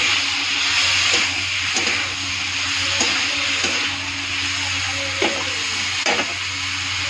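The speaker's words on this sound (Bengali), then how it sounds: "টমেটো কেটেটা ঢেলে দেবো। ভালো করে নেড়ে চেড়ে" Chopped tomatoes go into a hot pan and sizzle steadily while a spoon stirs them, with scraping strokes clattering against the metal at irregular intervals throughout.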